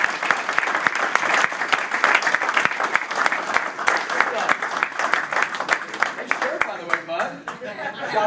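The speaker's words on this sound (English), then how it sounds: "I want you guys to give a huge round of applause for Mr." A crowd gives a huge round of applause for Nick Rose as he is called up on stage, sharp individual claps standing out in the dense clapping, which thins and fades toward the end amid a few voices.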